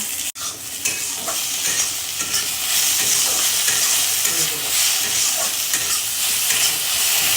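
Food sizzles steadily in a pan on a home stove while a utensil scrapes and stirs through it, a continuous close frying hiss broken by a sharp click at the start.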